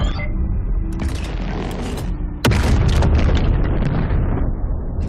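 Ship cannon fired in a naval video game, a loud booming blast that cuts sharply through a constant rumbling background, followed by rolling low-end reverberation.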